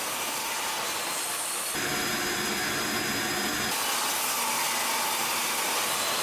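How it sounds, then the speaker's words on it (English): A table saw with a crosscut sled slicing a wood board into strips for an end-grain cutting board, the blade loading into a loud, steady cut for about two seconds between the motor's broadband whine. "take it over to the table saw to cut it into strips"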